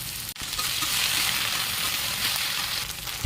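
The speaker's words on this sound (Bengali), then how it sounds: "ঢেঁড়সটা দিয়ে ভাজা ভাজা হয়ে যাবে" Okra fries in a wok with a continuous, fairly loud sizzle and faint stirring scrapes, one brief dropout early on and a soft knock at the very end.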